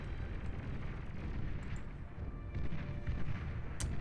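Distant artillery-style firing from Bulls units in a strategy video game, a steady low rumble of booms rolling on throughout with no talk.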